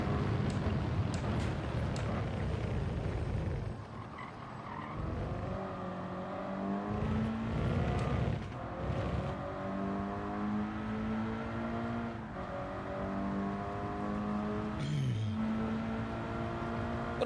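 Road car engine driven in the racing video game Gran Turismo, a steady drone with rising and falling pitch as it revs and shifts gears, loud and continuous throughout without talk.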